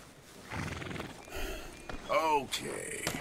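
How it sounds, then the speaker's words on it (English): Horse in the Red Dead Redemption 2 video game whinnying loudly and snorting, with soft clip-clopping hooves nearby, someone speaking between the sounds. "Come on. Get on the horse."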